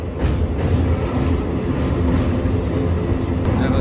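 A passenger train on the Digha to Howrah line crossing the long bridge over the Rupnarayan river makes a steady, loud rumble with faint clacking, heard from on board.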